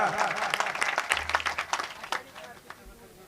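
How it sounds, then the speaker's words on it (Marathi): Applause from the audience at a Marathi kirtan, a burst of many hands clapping close by that thins out after about two seconds, with a voice heard briefly under it. "वा टाळ्या"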